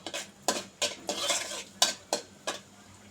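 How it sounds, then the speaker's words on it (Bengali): A utensil stirs bottle gourd peel and potatoes frying in oil in a pan, making about seven quick, close scraping strokes in an uneven rhythm over a faint background. "এবার নেড়ে দিচ্ছি"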